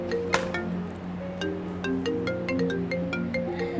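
A phone ringtone plays a repeating electronic melody of bright tones at moderate volume, steady throughout with faint background noise.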